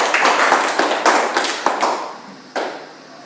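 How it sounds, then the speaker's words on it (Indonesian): A short burst of applause for a student group in a classroom, several hands clapping close by with uneven, scattered claps that thin out toward the end. "berikan aplaus untuk kelompok 3"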